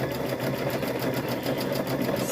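Sewing machine stitching a trick-or-treat bag, a close, steady, rapid mechanical whirr of needle strokes running continuously without pause.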